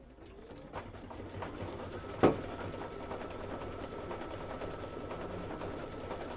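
An embroidery machine stitching a close Kimberbell stitch runs with a fast, steady mechanical chatter, close up, with one sharp click partway through and no talk.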